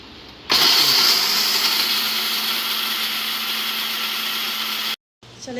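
An electric mixer grinder whirs into life grinding spices for lasooray pickle, a loud, even high-pitched drone that runs steadily for about four and a half seconds before cutting off abruptly.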